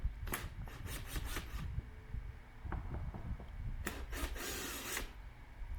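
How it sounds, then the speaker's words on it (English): A drill backs out the screws on a Volkswagen engine air filter cover, giving faint bursts of whirring and ratcheting in two separate runs, with soft clicks and handling noises between them. "you could use a drill like I'm using here. Got the bit on, and let's go ahead and take off those cover screws."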